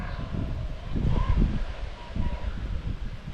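Wind blowing outdoors on a windy day, with steady low rumbling gusts buffeting the microphone throughout and swelling slightly midway.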